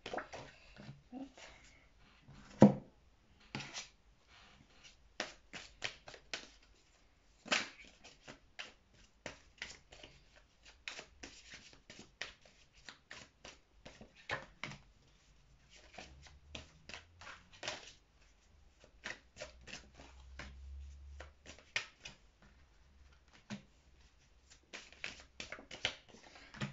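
Tarot cards are shuffled and drawn, giving soft irregular riffles, taps and flicks up close, with a low hum partway through.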